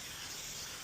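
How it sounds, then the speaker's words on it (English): A short, steady hiss of a spray bottle misting a car side window, continuous and fairly close for under a second. "Spray it for the static."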